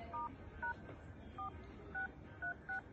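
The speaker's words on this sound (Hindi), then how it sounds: "तो डायल पे जाएंगे, हैश कोड अप्लाई करेंगे," Phone keypad DTMF tones on a mobile handset as a hash secret code is dialed, seven short separate beeps pressed at an uneven pace over a low steady background hiss, with no talking.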